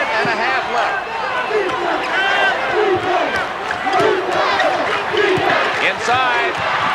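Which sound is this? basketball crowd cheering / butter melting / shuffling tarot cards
basketball crowd cheering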